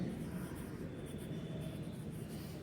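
Pen or pencil scratches across a page of a maths workbook in soft, continuous strokes, close but faint under a steady background hiss, with no talk over them.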